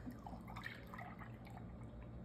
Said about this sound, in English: And finally, 1 cup of whole milk.